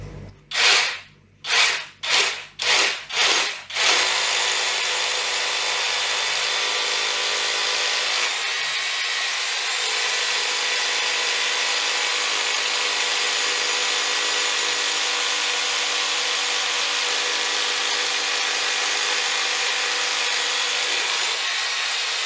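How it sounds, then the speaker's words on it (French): A small electric drill bores holes to mount an ARKA osmosis water filter unit: several short revving bursts at first, then one long steady, loud whirring run that continues to the end, with no talk. "la petite perceuse qui va bien."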